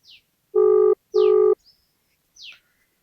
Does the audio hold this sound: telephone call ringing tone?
yes